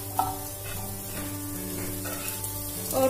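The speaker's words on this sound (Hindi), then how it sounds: "सबसे पहले आपको जो है यहाँ पर अनियन डालनी है" Onions fry in a hot pan, a steady dense sizzle with soft stirring scrapes over a constant background hum, no talking.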